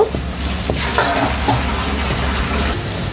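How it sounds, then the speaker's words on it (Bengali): Piyaju, Bengali onion fritters, sizzle in hot oil with a busy crackle, broken by a few sharp clinks and stirring knocks close by. "আর এখন কিন্তু আমি ভেজে নেব"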